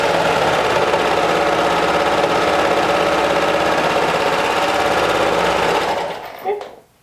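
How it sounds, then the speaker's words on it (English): A sewing machine stitches a curved sleeve seam at a quarter-inch allowance in a loud, fast, continuous mechanical whir that runs for about six seconds, then slows and stops, followed by a short clack. "I'm going to stitch this down with 1/4 inch seam allowance, making sure that I follow the curve and not stretch the fabric"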